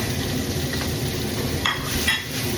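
Ground meat sizzles steadily in a frying pan while Filipino-style sautéed bean sprouts and cabbage cook, a dense close crackle with a couple of brief brighter bursts near the end and no talk.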